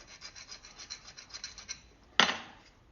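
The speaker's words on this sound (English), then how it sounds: "my diamond file and I'm just going to clean up the edges real quick." A diamond file rasps along the edges of a knife blade to remove the burr, about a dozen quick, light, rhythmic strokes close by, followed by one sharper scrape.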